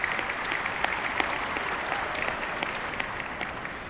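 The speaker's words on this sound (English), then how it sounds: "Let's give them a round of applause." Sustained applause from a large crowd at a high school graduation ceremony honoring a tennis doubles pair, an even roar of clapping with scattered sharper claps throughout.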